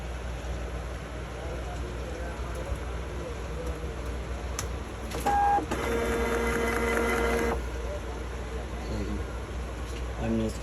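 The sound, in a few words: Zebra GX420t thermal barcode label printer printing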